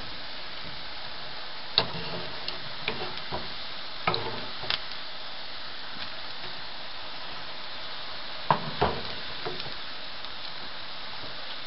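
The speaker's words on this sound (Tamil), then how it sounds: "முறுக்கு 5 நிமிஷம் அதே எண்ணெயில இருக்கும்" Murukku deep-frying in hot oil, giving a steady close sizzle with occasional sharp pops and the light taps of a utensil.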